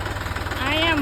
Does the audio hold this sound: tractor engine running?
yes